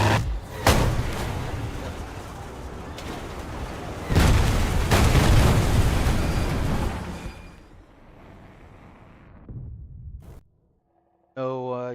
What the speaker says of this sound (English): Missiles, missiles everywhere.